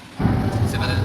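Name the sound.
thunder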